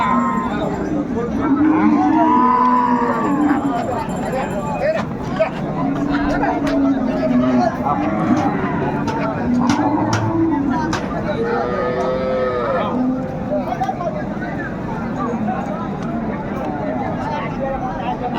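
Cows and calves moo repeatedly at a busy rural cattle market in Dinajpur, Bangladesh, with the calls rising and falling over a steady hubbub of crowd chatter and people talking.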